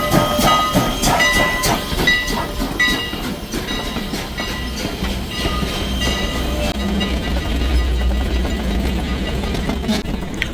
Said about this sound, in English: The time has come. Our train is arriving.